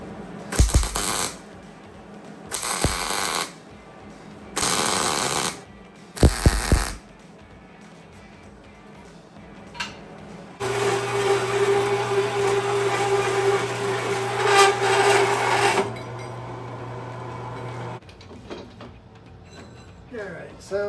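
A metal cutting blade cuts a pie cut in steel on a car build, giving several short harsh bursts followed by a longer steady grinding whine with a low hum that fades out.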